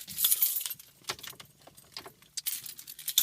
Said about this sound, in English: These are the keys.